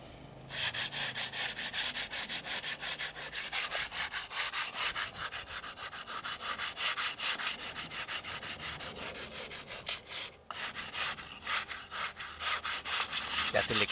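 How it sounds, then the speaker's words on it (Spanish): A brick face is sanded with a small sheet of sandpaper, a loud rasping stroke repeated in a quick even rhythm, close up for the whole stretch with one brief pause. "Ya se le quita todas las impurezas, amigos, con esa pequeña lija"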